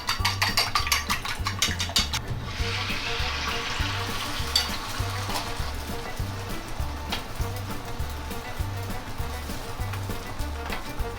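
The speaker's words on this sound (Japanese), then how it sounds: "鉄板に油を塗って、温まってきたところで、まずは卵" An egg fries on an oiled teppan griddle for omusoba with a continuous close sizzle, a crisp spatter of crackles early on, and a steady rhythmic background hum under the frying.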